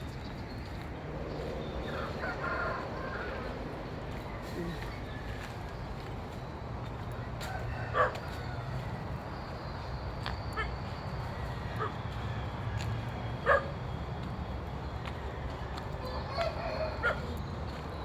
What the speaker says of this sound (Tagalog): May aso po tumatahon.